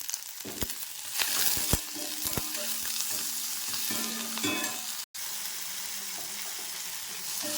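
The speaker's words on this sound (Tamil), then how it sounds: "சின்ன தக்காளி ரெண்டு தக்காளி அதையும் நல்லா வதக்குங்க லைட்டாக உப்பு போட்டு வதக்கிறேன்" Tomatoes sautéing with salt, ginger and garlic in a pan give a steady, close sizzle broken by sharp scraping stir strokes and clinks, with a brief drop out partway.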